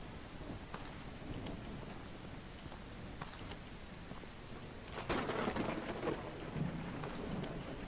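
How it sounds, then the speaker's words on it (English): In the survival game Outbreak Island, a thunderstorm brings steady, hissing rain and several distant rumbles and cracks of thunder, rising louder around the middle, with no speech over it. "I hate thunderstorms because you can't hear monsters coming."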